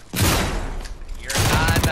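Machine pistol gunfire in the Fortnite video game, two loud dense bursts of rapid shots separated by a brief gap.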